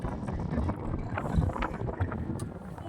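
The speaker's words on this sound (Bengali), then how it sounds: "এই যে হাওয়া দিচ্ছে না" Wind blowing on a mountain road toward Darjeeling above the Teesta dam, a steady rough buffeting rush against the microphone with no talk.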